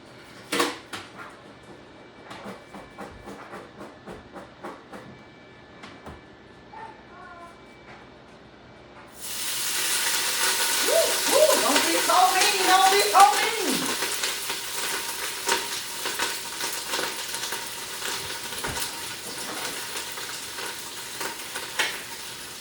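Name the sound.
greens frying in hot grease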